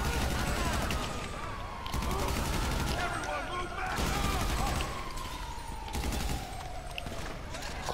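Gunfire in the video game GTA 5 Online: rapid, loud bursts of automatic shots that come in dense volleys with brief gaps, continuing across the whole stretch.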